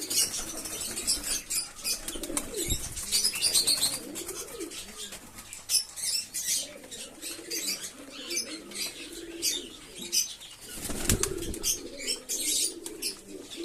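Caged pigeons scuffle and fight, with repeated bursts of wing flapping, scratching and low cooing at close range, a busy, restless flurry throughout.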